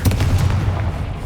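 A Confringo blasting spell explodes in the video game Hogwarts Legacy, a loud, booming burst that rumbles on briefly with heavy low-end weight.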